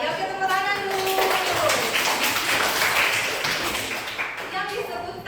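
Schoolchildren in a classroom clap together on a teacher's cue, a brisk burst of hand claps mixed with chatter and voices talking over it.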